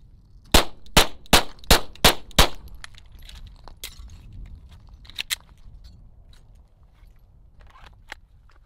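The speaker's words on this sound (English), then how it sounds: "First initial 5 rounds, what'd you think, Paul?" A ZEV OZ9C-X 9mm pistol fires five rapid shots in an even, sharp sequence, loud and close, followed by quieter clinks and a few faint clicks in the following seconds.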